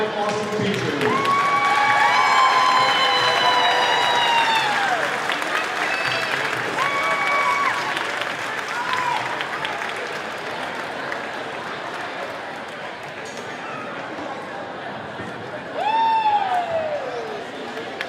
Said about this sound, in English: Please join me in a round of applause for these 5 awesome teachers.